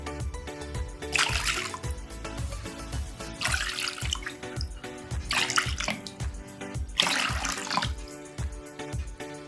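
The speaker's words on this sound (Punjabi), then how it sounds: "ਹੁਣ ਆਪਾਂ ਇਹਦੇ ਵਿੱਚ ਸਾਦਾ ਪਾਣੀ ਪਾਵਾਂਗੇ ਜੀ" Water poured in a few separate bursts into a vessel of tamarind water for golgappa water, splashing close by, while rhythmic music with a steady beat plays throughout.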